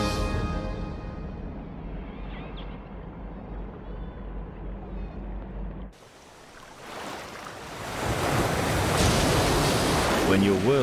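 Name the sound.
ocean waves at the sea surface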